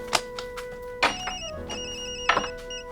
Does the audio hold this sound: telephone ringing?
yes